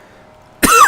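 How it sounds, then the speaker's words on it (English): One sudden loud, raspy cough bursts in at close range after a near-silent stretch, cut off just as it starts. "Full on coughing fit there"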